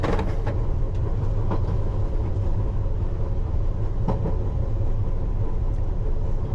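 A London Underground Piccadilly line train rumbles into a platform near Heathrow Terminal 2/3, a loud continuous rolling roar with scattered wheel clicks and rail knocks throughout, heard from on board.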